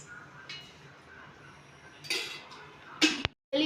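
A pan set down on a gas stove before oil goes in for a paneer curry, heard as a few separate metallic clinks and knocks against a low kitchen hum, ending with a brief cutoff.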